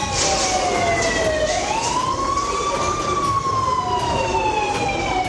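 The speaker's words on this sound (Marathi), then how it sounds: "मॉकड्रिलमध्ये सायरन वाजवून लोकांना अलर्ट केलं जातं।" A mock drill siren sounds to alert people: a loud, sustained wailing tone slides up and then slowly down over a steady background rumble, with no voices.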